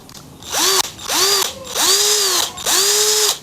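A handheld cordless drill converted from 12 volts to 32 volts whirs up and winds down four times in short bursts, loud and close, its pitch rising and falling with each trigger pull.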